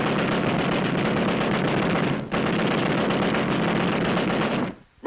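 Machine-gun fire from 1945 Okinawa combat film, a loud continuous roar of rapid bursts with a brief break midway before it cuts off.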